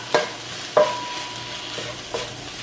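Chicken and onions cooking in a pan, a soft steady sizzle with three distinct scrapes or taps of a utensil against the pan.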